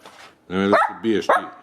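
An indoor dog worked up over its new bed lets out close, throaty bark-growls in two or three bursts, the last ending in a sharper yelp.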